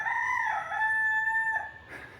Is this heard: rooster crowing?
yes